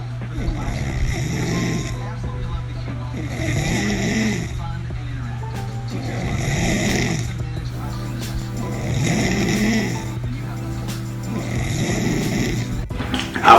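A man snores in loud, regular breaths, five or six rasping snores at about two-second intervals over a steady low hum, close up.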